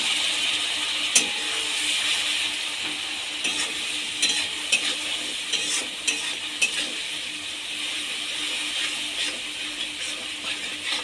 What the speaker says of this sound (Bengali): মশলাটা যাতে পুড়ে না যায় তাই আমি সামান্য পরিমাণে জল দিয়ে কষিয়ে নেব